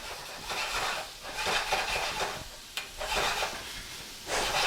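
Broccoletti and carrots sautéing in a skillet, with soft sizzling and scraping stirs in uneven bursts, close and moderately loud, no voices.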